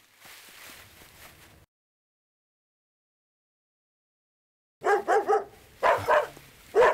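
Several dogs bark in quick, loud, close bursts after a long silence, preceded by a fainter stretch of barking, in a Hindi-dubbed horror film.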